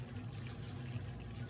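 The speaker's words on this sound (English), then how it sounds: "Now we're gonna add 700 grams of water" Water poured into flour for sourdough bread, a steady continuous splashing pour heard up close and alone, without breaks.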